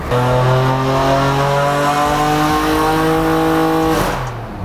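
A BMW S55-engined car revs hard on a dyno during a power run, with one loud sustained rising engine roar that holds for about four seconds before cutting off.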